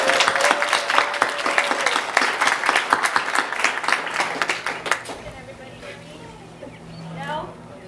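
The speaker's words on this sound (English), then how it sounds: "a round of applause for Chief" Audience applause at a military retirement ceremony, a dense, loud round of clapping from a crowd that fades out over the final seconds as a low hum takes over.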